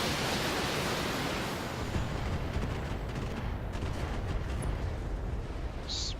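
A barrage of LRM missiles in the Battletech game lands as a dense, sustained roar of blasts and rushing noise, loud and continuous with no voices.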